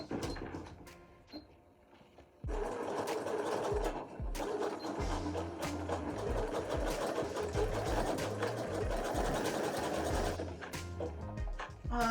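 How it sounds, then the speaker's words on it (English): A sewing machine runs a zigzag stitch along a homemade gym bag, a loud steady whirring rattle with rhythmic needle thumps starting after a few seconds of quieter handling. "I think I should do a zigzag stitch actually."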